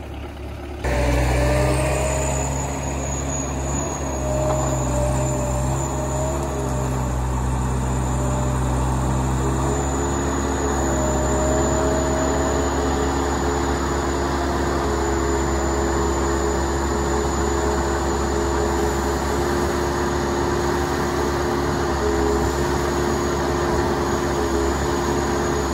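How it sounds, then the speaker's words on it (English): A brine sprayer truck's engine idles steadily while warming up, a loud, constant diesel drone with a faint whine, close by and without a break. "So just letting the machine warm up right now."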